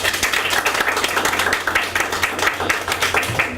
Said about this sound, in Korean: 여러분들의 뜨거운 박수와 함께 시작하겠습니다